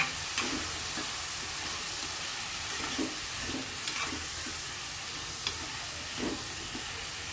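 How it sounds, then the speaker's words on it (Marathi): A spoon stirs vegetables in a sizzling pan, soft scraping taps recurring every second or so over a constant frying hiss. "थोडंसं मीठ घालू आणि हे परतून घेऊ"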